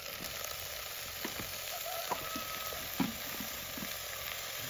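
Taro leaves added to spices frying in a pan for karkalo curry give a steady, even sizzle, with a few soft scraping and clinking knocks from stirring scattered through it.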